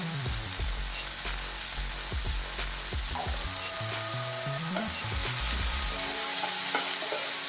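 A tomato mixture fries over a medium flame with salt added, sizzling loudly and steadily up close while a spoon stirs and scrapes the pan in repeated strokes throughout, with no talking.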